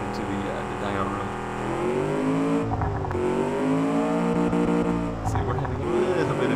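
A V8 engine revs in the dyno room of the Automation video game, its harmonic tone rising and falling in long sweeps, loud and steady with a light reverb tail.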